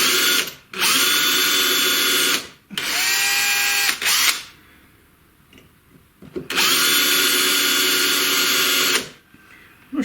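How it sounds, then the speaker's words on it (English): An 8mm bit in a power drill boring a hole during a CNC conversion build, in three loud whining bursts of a few seconds each with short pauses and a quieter gap between them. "I'm going to put an 8mm drill through, which is close to 3/8 I think."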